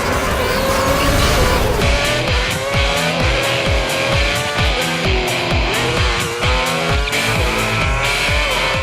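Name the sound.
racing cars roaring in a video game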